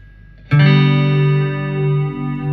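A single electric guitar chord rings out through a Crate FlexWave 120/212 amplifier with a shimmering chorus effect, sustaining and slowly wavering as it fades.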